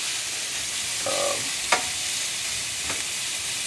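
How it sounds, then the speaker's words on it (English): Ground pork sizzles steadily in a wok over medium-high heat, a constant close frying hiss broken by a few light scrapes and taps of stirring. "And I'm cooking this in a wok, my wok, so the heat comes off the edges"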